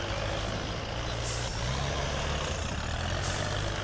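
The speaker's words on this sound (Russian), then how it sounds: "у него звук какой-то вообще необычный. Здесь идет смесь тракторов, машин, грузовиков." The XPen 8x8 truck in SpinTires idles as a steady, low engine rumble with a layered, mechanical drone and brief airy hisses, close and continuous, with no talk.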